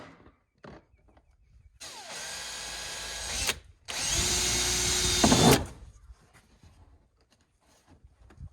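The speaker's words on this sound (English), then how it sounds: "I drilled that hole and it got a cut in it, so I drilled a new one" A power drill bores a hole for mounting a mud fender on a 2015 Honda Foreman ATV, two loud sustained whirring bursts close by with a short pause between, then quiet workshop noise.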